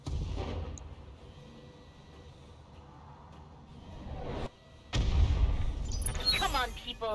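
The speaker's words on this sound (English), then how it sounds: "we can drop a Thumper Cannon right here" Artillery strike from a Thumper Cannon in the BattleTech video game: a heavy, low boom with a rumbling tail, followed moments later by a second deep impact, heard under faint background game noise.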